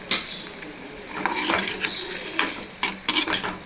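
A utensil stirs mutton brain with chilli powder and spices in a pan, making irregular scraping strokes and light metallic clinks over a faint sizzle.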